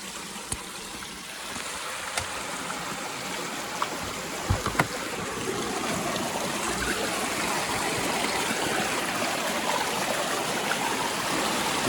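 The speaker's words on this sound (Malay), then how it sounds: "Tengok sungai dia tak dalam." A shallow river flows at Jeram Agor, giving a steady, broadband rushing and trickling that stays even throughout, with a few faint knocks near the start and nobody talking.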